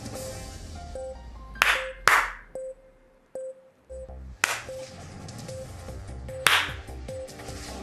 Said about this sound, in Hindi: आप ताली बजाना कभी बंद ही नहीं करते।